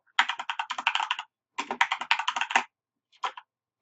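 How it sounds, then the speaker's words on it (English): Fast typing on a Corsair keyboard, clicky keystrokes in rapid bursts separated by short pauses, close and clear with no voices. "I'm just typing iceberg over and over and over again"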